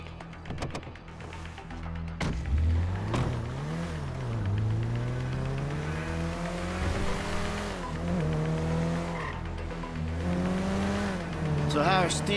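Car driving in GTA 5 on the Western Highway, a steady engine drone with rising and falling revs and occasional tire noise, running continuously under a conversation between characters.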